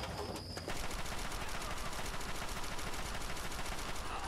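Sustained rapid automatic gunfire in a modded Fallout 3 firefight, loud and dense with a steady stream of shots hammering on after a brief quieter opening.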